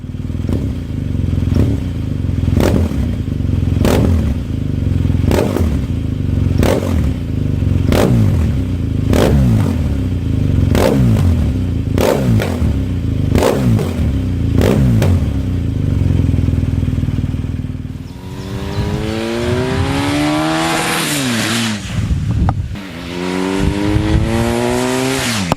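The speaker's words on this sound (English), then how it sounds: "we always do also an acceleration test from 0 to 60 miles per hour also with this big bike" BMW R 1250 GS motorcycle accelerating hard from standstill toward 60 mph, a loud boxer-engine roar climbing through gears with rapid quickshifted rises and drops, then a final surging pull, close and steady with no talking.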